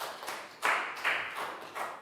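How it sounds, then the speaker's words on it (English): Classroom of young students giving a classmate a short round of applause, a few scattered claps rising in brief bursts, light and fairly close. "Big round of applause for Down."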